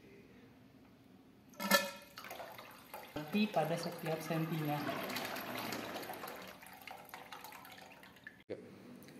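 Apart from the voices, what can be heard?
water draining manually from blue tap of tank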